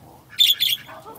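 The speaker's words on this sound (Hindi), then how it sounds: "ये ऑस्ट्रेलियन तोते" Australian parrots in a mini zoo cage give two quick, bright chirps close by, the second following right after the first over quiet background.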